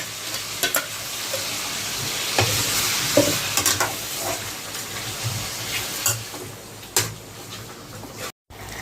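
Marinated chicken pieces sautéing in a pan for homemade biryani produce a close, continuous sizzle with frequent spoon scrapes and knocks against the pan, and a short silent gap near the end.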